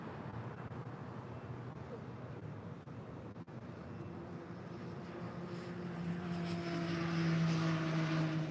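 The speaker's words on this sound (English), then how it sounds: "Speedbird now starting her taxi" A British Airways airliner taxis at LAX, its steady engine roar rising and thickening toward the end with a low hum; a voice talks over it briefly.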